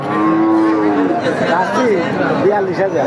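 A cow moos loudly and close by at a market for lean, bony cows, giving one long drawn-out call. Crowd chatter and voices run underneath.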